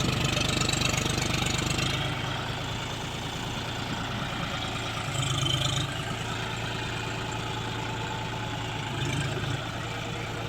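A four-wheel tractor engine runs steadily in a muddy field where it keeps sinking, a low, rumbling chug that stays fairly loud throughout, with no voices.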